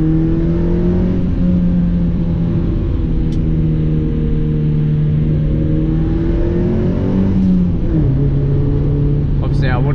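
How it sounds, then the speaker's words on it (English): A Mazda MX5 revs hard on the road, its engine note rising and falling with exhaust pops and crackle, loud and close throughout. "Popping quite a lot is the exhaust."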